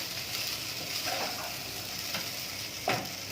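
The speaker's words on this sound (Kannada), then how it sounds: "ಪೊಟೆಟೊ ಬಾಯ್ಲ್ಡೇ ಇದು ಜಸ್ಟ್ ಫ್ರೈ ಮಾಡಬೇಕು" Boiled potatoes frying in a pan, giving a steady close sizzle with occasional scraping stirs from a utensil and no voices.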